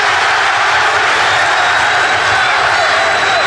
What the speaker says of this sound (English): And the crowd chanting Larry.